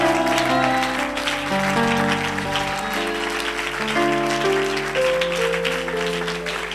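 A church congregation claps and cheers in praise of the Lord, a steady wash of applause that fills the whole stretch, with sustained organ or keyboard chords ringing underneath.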